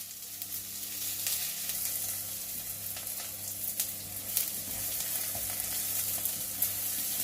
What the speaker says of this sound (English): So I'm just going to keep this on the heat, keep stirring it frequently until it's nice and beautifully coloured.